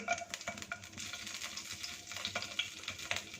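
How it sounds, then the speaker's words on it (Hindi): Chopped garlic fries in oil in a pan for a low-oil cauliflower appetizer, giving a soft continuous sizzle with light stirring clicks and scrapes, faint and steady with no talking. "सिर्फ 1 मिनट के लिए इसे फ्राई करेंगे, इससे लहसुन की स्मेल होती है वो ख़त्म हो जाएगी"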